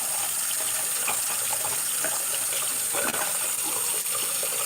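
Water runs steadily from a tap, a continuous hissing splash with small shifts in texture as a makeup brush is rinsed under the stream.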